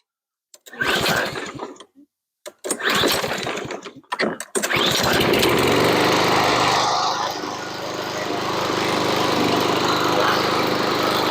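A small lawn mower engine is pulled several times, sputters, then catches and runs steadily with a loud buzzing drone.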